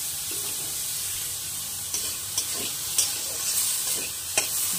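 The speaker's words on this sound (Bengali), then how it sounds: "প্রথমেই চিংড়ি মাছটাকে ভেজে নিতে হবে। তো এখন এর মধ্যে দিয়ে দেবো সামান্য একটু লবণ ও সামান্য একটু হলুদ।" Shrimp fry in hot oil with a little salt and turmeric, giving a constant close sizzle broken by several light stirring scrapes and clicks.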